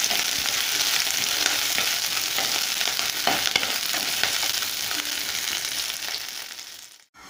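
Pirandai (adamant creeper) sautéing in a pan, giving a loud, dense sizzle with stirring scrapes throughout, then cutting out abruptly near the end.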